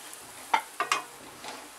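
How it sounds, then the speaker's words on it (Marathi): Pounded garlic, ginger and dried coconut dry-roasted in a pan, heard as a few soft scraping stirs and faint crackles at close range, fairly quiet with no talking. "लसूण आणि सुकं खोबरं हे मी खलबत्त्यामध्ये कुटून घेतलेलं आहे। हे आता चांगलं भाजायचं।"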